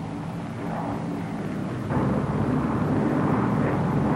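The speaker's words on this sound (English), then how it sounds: "Presented herewith is a new type of airplane, a primary trainer escort, under absolute control at 90 miles an hour indicated." Lockheed P-38 aircraft flying at low speed, around 90 miles an hour: a steady, dense engine roar that swells slightly partway through, continuous and fairly loud with no voices.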